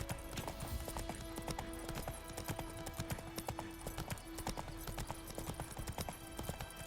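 Horse hooves clip-clop in Witcher 3 at a steady, brisk trotting rhythm, with each close, sharp hoofbeat ringing out over game ambience and faint background music.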